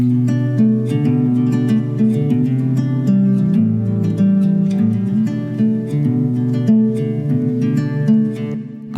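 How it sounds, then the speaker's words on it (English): Plucked nylon-string guitar with a soft, warm tone plays a steady fingerpicked pattern of chords and melody, close and clear, with no voices. "most of the record was written on nylon string guitar"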